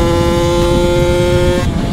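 A Kawasaki KX65 dirt bike engine drones loud and close with a steady high-pitched whine while riding a warm-up lap, the tone dropping away near the end.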